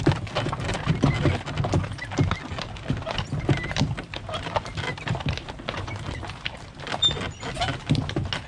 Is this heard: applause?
no